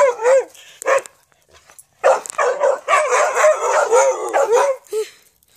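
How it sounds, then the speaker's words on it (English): Puppy barking close and loud in a string of high yips and short howling barks, clustered in bursts with brief pauses between them and no talking. "He's a super cute puppy."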